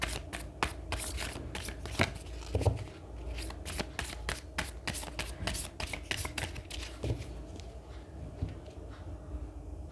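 Tarot cards are shuffled by hand in rapid, repeated riffling bursts, close and crisp, running continuously with short gaps between rounds.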